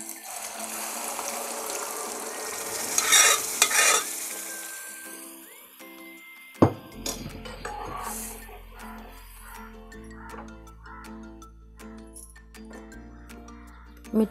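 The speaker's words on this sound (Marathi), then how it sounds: "आता डाळ टाकते फोडणीला।" Dal dropped into a hot tempering of ginger and garlic for Maharashtrian varan gives a sudden sizzle, then a steady crackling fry with a few clinks from stirring, close and loud with no talk.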